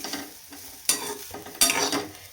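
Slices of bitter gourd sauté with salt in a hot pan, a steady sizzle broken by two sharp bursts of scraping and stirring, close and fairly loud, with no talking.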